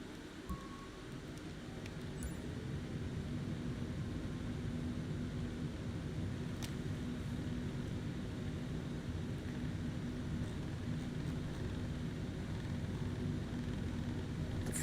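Steady, loud broadband roar of a Jetstar airliner's engines climbing out of Essendon Airport, Melbourne, bound for Sydney in a virtual flight simulator, continuous and unbroken throughout with no talk.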